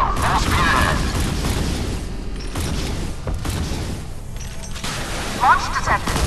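Warship weapons firing in the Modern Warships naval combat game, with booming shots and rumbling blasts over steady engine and sea noise, under spoken game voice commands.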